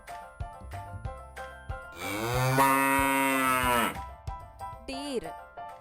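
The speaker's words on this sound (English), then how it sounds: "Cow," A cow gives one long, loud, drawn-out moo lasting about two seconds, set between light rhythmic clicks and taps.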